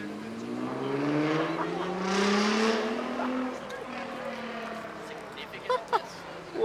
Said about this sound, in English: Race car.